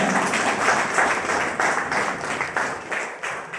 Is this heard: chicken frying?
no